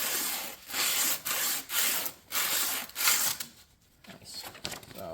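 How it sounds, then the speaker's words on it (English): Hand sanding with 100 grit sandpaper wrapped around a part on a long-abandoned 1991 Dodge Grand Caravan SE, a close, loud, rhythmic rasping in strokes of about half a second each, with no talking. "100 grit sandpaper we're going to wrap around here."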